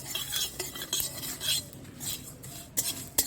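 Spices including white cumin and fenugreek fried and stirred in a pan for a sweet-and-sour mango pickle: busy, close metallic scraping and clinking of a spoon against the pan, with a faint sizzle underneath and no voices.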